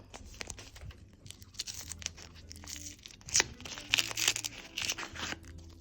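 A plastic surprise packet holding clothing is torn and crinkled open up close, giving a string of sharp crackling rips that grow louder toward the end.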